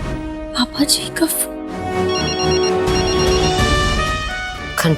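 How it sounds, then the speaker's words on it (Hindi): A telephone rings in a home, a steady sustained electronic ringtone that holds for several seconds with short chirpy bursts before and after, loud and close over background sounds. "घंटी तो बज रही है जी"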